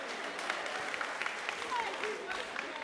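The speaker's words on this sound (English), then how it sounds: "let's clap for him." A faint round of audience clapping at a televised singing contest show, distant and thin, with some crowd murmur and brief voices underneath.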